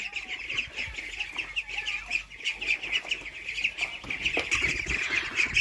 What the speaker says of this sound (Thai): พี่เป็ดบอกหิวแล้วหิวแล้ว